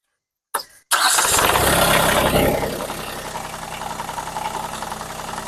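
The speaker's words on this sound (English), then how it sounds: "And start the tractor." An Ibex RK25 tractor engine cranks briefly, then catches and roars loudly before settling into a steady, rumbling idle close by, with no talking.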